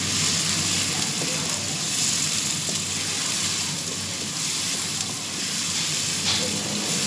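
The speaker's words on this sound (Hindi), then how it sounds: "अब हम इसमें प्याज डाल देंगे।" About two chopped onions fry in hot oil, giving a dense, continuous sizzle that stays loud and steady throughout with no pauses.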